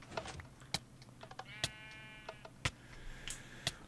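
A Minecraft sheep gives a single wavering bleat in the middle, amid sharp computer-keyboard clicks and taps scattered throughout at moderate volume.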